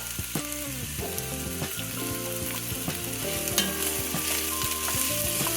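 Chopped yellow onion frying in heated oil in a pot, a steady close sizzle broken by repeated clinks and scrapes of a spoon stirring, with no talking.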